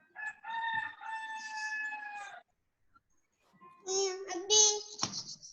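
A rooster crows twice, each call a loud, drawn-out, tonal cry separated by a short silence, with no talking.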